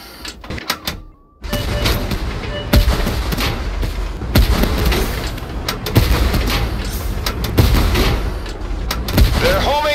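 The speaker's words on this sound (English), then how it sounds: "Bombardment!" Artillery bombardment in a video game: heavy booms and blasts crowd together into a loud, dense barrage, with a brief lull near the start and then continuous rumbling impacts over roughly ten seconds.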